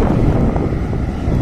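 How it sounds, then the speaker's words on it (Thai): Strong wind roars steadily across the microphone at an outdoor truck dumping site where Mitsubishi FN527 dump trucks unload soil, a loud continuous low rumble with no pauses. "ดูลมครับ ลมแรงมาก"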